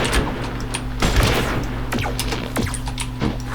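Shotgun blasts in the farming shooter game Shotgun Farmers: several sharp booming shots spaced irregularly over a steady low engine-like hum, loud and close.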